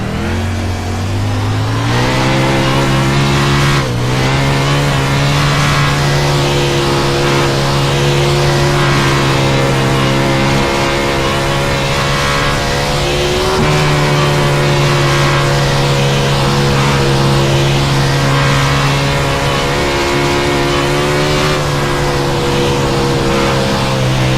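A race car lapping the paved oval at Knoxville, its engine loud and close, revving hard and holding a steady high drone, with brief dips as it lifts through the turns, and no talk.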